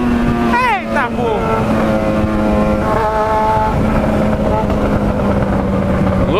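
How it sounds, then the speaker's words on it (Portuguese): A Yamaha XJ6 motorcycle engine revs and holds a steady droning pitch, running loud and close throughout, with a brief rising whine near the start. "você tá acelerando essa moto"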